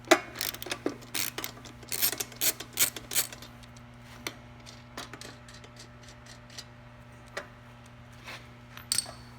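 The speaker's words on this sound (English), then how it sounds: "take the nut all the way out so the support can move to a different hole on the carriage bolt there" Nut being spun off a carriage bolt on a Sun Traditional electric trike seat backrest support, giving faint ratcheting, clicking metal clatter in irregular bursts with a steady low hum underneath.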